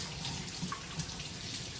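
Tap water runs steadily while a lobster shell is rinsed in the kitchen, a continuous gushing splash with faint knocks of the shell, close and fairly quiet.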